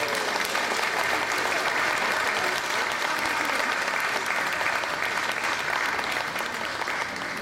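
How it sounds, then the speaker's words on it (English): An audience claps for children being recognized at a Harrisburg recognition event, sustained dense applause filling the room at a steady level from start to finish. "Let's give them a round of applause."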